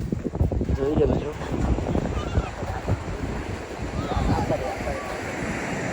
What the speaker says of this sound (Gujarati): દરિયાના મોજા વધારે આવવા મળ્યા છે